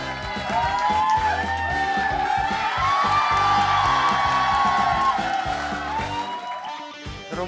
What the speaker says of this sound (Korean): 큰 박수. 박수 주세요.